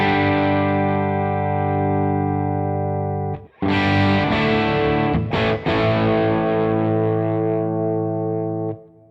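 Overdriven electric guitar chords ring out loud and sustained with gritty valve-amp preamp breakup, briefly cut off and restruck before fading away.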